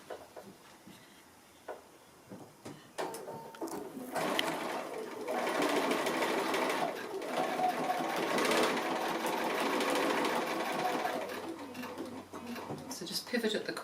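Sewing machine running a narrow quilting seam on a small ornament or gift tag made from 2 1/2-inch squares, a close, steady whirring that builds after some quiet handling noises, with a voice talking at moments.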